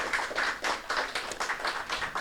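Conference audience clapping in a steady rhythmic pattern, regular claps repeating roughly every quarter second, moderately close and sustained throughout the short stretch.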